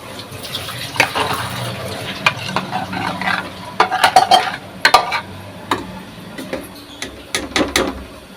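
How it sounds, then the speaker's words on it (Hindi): Raw mango pieces are dropped into a sugar mixture in a pan and stirred, producing spoon scrapes and clinks against the pot in irregular bursts over a soft cooking hiss. "अब इसमें कटे हुए आम के पीस डालने हैं।"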